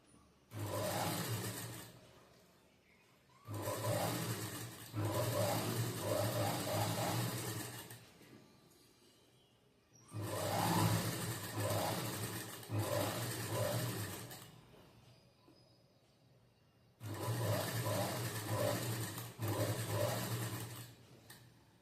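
A sewing machine stitching a four-tuck blouse runs in four long bursts of steady rapid whirring and clatter, each lasting several seconds with short pauses between, close and prominent with no voices.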